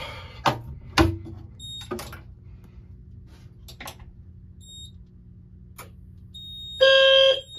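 Fire alarm panel sounding during a smoke and heat detector test in a panel room: a loud harmonic electronic tone bursts in near the end, after several sharp clicks and knocks from handling the detector.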